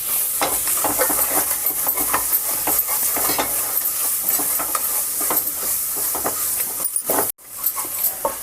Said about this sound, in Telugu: వేసుకుని దీన్ని కూడా బాగా ఫ్రై చేయాలండి.